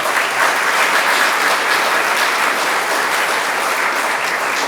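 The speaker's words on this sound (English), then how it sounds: "So a round of applause for the Chamber and the staff and for everybody for being here this morning." An audience applauds at a Chamber of Commerce community event in a steady, dense patter of many hands clapping at once, loud and sustained throughout, with no voices standing out.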